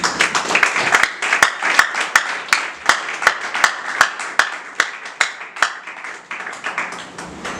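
A church congregation applauding and clapping in rhythm, a steady beat of sharp claps over a bed of cheering voices.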